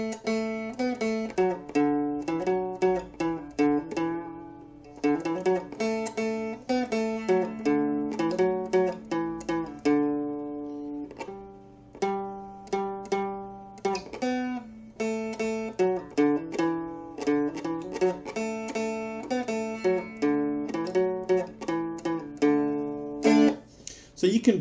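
Merlin stick dulcimer picking out the Oh Susanna melody note by note, plucked tones ringing over a steady drone in a bouncy rhythm with one short pause, close and clear with no voice.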